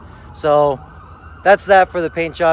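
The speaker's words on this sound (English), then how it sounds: "Sorry about the sirens." Emergency vehicle sirens wail outside, a thin steady tone running beneath someone talking nearby.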